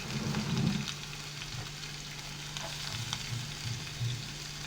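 Chopped onion frying in hot oil in a pan for a bitter gourd dish, a steady close sizzle that swells briefly at the start and then settles into an even crackle with small pops.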